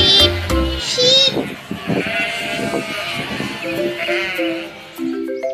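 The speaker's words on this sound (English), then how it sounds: "Sheep. Sheep." Sheep bleat repeatedly, several wavering calls over a busy mix of other sounds, with brief musical tones at the start and end.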